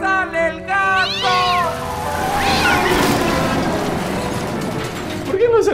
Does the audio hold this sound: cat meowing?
yes